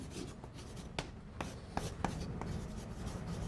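Chalk or marker writing on a board during a university calculus lecture, a quiet scratchy scrawl with repeated short strokes and taps, close and isolated, no talking.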